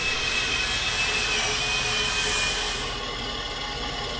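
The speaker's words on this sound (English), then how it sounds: "drill it out on the drill press" Continuous whirring drone of a drill press boring holes in steel, with a thin high squeal that fades partway through, steady and close.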